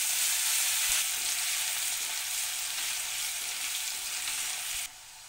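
Whole garam masala and chopped garlic frying in hot oil for a Bengali chicken kosha, a steady loud hiss with faint scrapes, close up with no talking, then dropping in level near the end.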